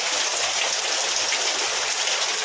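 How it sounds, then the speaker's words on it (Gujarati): Heavy rain pours steadily, a dense, even hiss of falling water with no breaks, loud and close, with no one talking. "હવે વરસાદ ફૂલ ચાલુ થઈ ગયો"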